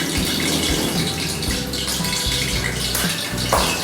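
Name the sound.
tap water running while washing fish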